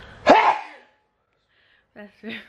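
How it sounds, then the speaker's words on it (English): A single sharp sneeze from someone with hay fever bursts out up close, followed after a pause by two brief, soft vocal sounds. "That's about five sneezes in the past 30 seconds."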